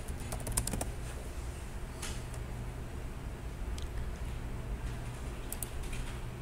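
Someone types on a computer keyboard in a room with a low steady hum. Quick bursts of keystrokes come at the start, then scattered single clicks follow through the rest.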